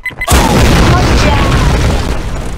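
A heavy explosion booms in a Warfare Classic video game, a loud, deep blast that hits suddenly after a couple of short electronic tones and rumbles on steadily to the end.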